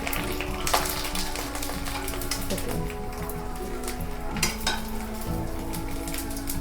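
Sago fryums frying in hot oil, pressed down with a ladle: a dense, steady sizzle and crackle throughout, close and loud, broken by a few light clinks of the utensil against the pan.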